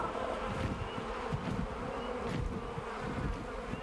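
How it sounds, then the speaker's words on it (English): Dense, droning buzz of honeybees in the video game ARK, steady and fairly close, humming without pause from start to finish. "I can hear honeybees."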